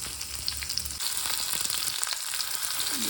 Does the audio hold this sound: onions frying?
yes